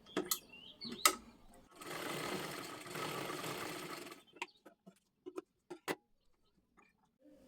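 A sewing machine stitches a blouse in one quiet burst of about two and a half seconds, framed by sharp isolated clicks and ticks from handling before and after.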